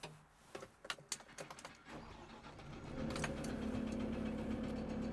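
A Merlo P27.6 compact telehandler's engine cranks and catches after a few clicks and clatters, then settles into a steady, fairly close idle hum that runs to the end.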